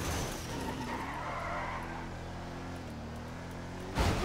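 A non-electric car in the video game GTA 5 roleplay skids through a long, continuous tire squeal over its engine drone during a test drive, ending in a louder thump.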